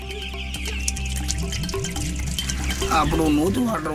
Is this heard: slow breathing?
no